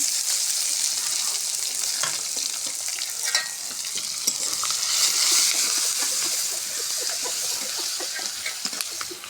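Chopped onion, garlic, bay leaves, cinnamon and cardamom fry in a pan for a pigeon curry. A loud, continuous close sizzle runs throughout, with scattered stirring scrapes and pops.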